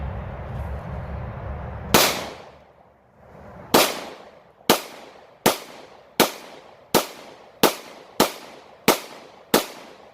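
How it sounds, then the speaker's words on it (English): A Taurus TH9C pistol fired outdoors in a muddy area, one shot followed by a steady string of about nine sharp reports with ringing decays, loud and close, no talking. "we're gonna see how this gun shoots"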